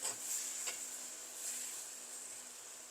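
Radish stirred with chili flakes and spices in a frying pan gives a steady close sizzle, with soft scraping stir strokes and no voices.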